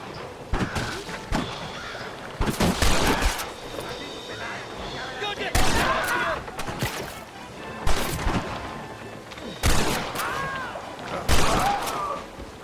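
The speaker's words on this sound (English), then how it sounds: "They're shooting down on us!" Gunfire and explosions from Red Dead Redemption, with enemies firing down from a cliff top. Loud repeated blasts and shots come in clusters every couple of seconds, and voices talk over the fight.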